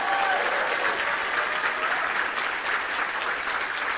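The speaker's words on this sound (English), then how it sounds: "Give each other a round of applause" A room full of people applauds steadily, a dense, even wash of clapping that holds at the same loudness throughout.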